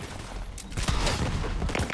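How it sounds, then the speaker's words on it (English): Rocket launcher fire in Borderlands 3, a big explosive launcher: a loud burst of blast and crackling noise rising after a quieter start and holding through the end, with no talk. "Oh, that's a big rocket launcher."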